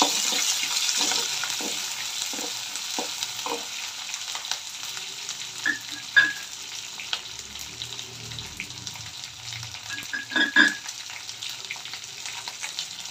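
Onions sautéing in a pan with rock salt for a moong dal curry, a moderate sizzle fading gradually, with scattered spatula clicks and scrapes, close and without talk.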